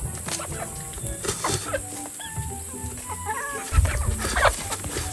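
Several chickens clucking close by in a busy, scattered chatter, with soft rustling and pecking sounds underneath.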